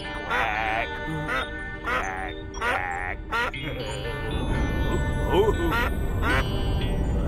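In a children's animated show, a cartoon duckling gives a run of rhythmic quacks over music and sound effects while characters talk.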